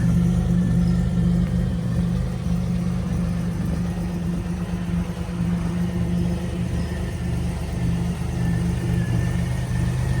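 A 1987 Buick Grand National's 3.8-litre turbo V6 runs steadily, a loud, even low rumble with no revving spikes, heard alone throughout.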